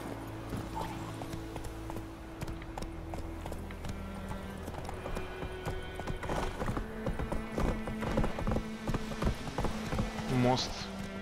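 Rhythmic hoofbeats of a horse ridden in the video game The Witcher 3: Wild Hunt, steady clip-clop that picks up and grows denser, with a short whinny near the end and someone talking over it.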